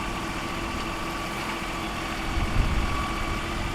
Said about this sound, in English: It's a good digging tractor.